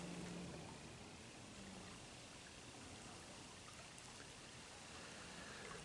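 A small creek flows steadily along Cousintown Road in Interlachen, Florida, its broad, even water noise close and continuous with no voices.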